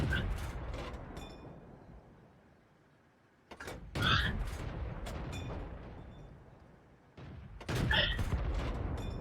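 Heavy tank cannon shots from a Matilda IV or Black Prince in World of Tanks, with sharp booming blasts near 3.5 and 7.5 seconds, each followed by a rumbling decay, over a quieter engine and battle background.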